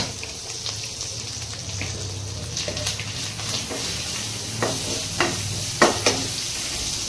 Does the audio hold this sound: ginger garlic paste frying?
yes